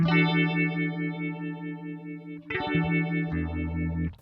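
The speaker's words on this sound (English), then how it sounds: "Next round, and the phaser increases with speed again." Sustained electric guitar chords through a Roland Cube amp's phaser swirl as the modulation speeds up, growing faster and wobblier; a second chord enters partway and the sweep continues.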